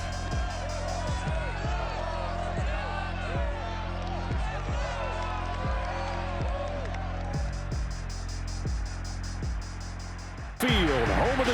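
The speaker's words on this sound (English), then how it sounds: "This crowd, as we've come to expect in recent years, as loud as any in the NFL" A loud video game stadium crowd roars continuously beneath an announcer speaking, Broncos versus Seahawks in Madden 23, with rhythmic thumping and a sudden burst of noise near the end.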